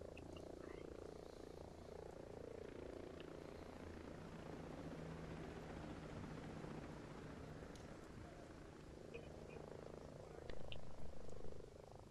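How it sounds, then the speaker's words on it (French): In the video game Ghost Recon Breakpoint, a steady helicopter rotor drone fills the background at a distance, constant and low, with faint chirping and a slight swell near the end. "Hélico, Sonore hélicoptère."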